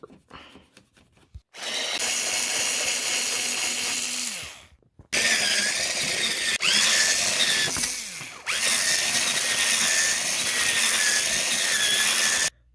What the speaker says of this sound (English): Alright, let's go ahead and drill this part.